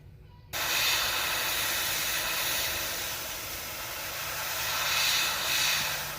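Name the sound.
airbrush spraying paint on a fish painting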